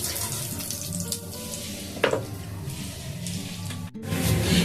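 Bay leaves and cumin seeds hit hot oil for an egg curry, giving a steady, close hiss of frying with a brief sharper clatter midway and a short drop near the end.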